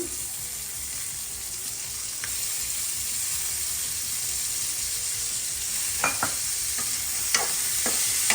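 Frozen peas frying in a pan for upma, a steady soft sizzle with a few sharp utensil scrapes and taps toward the end, no talking.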